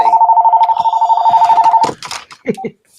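A telephone bell rings in a fast, trilling, pulsed burst for almost two seconds and then cuts off abruptly. Loud, close talk and laughter follow straight after.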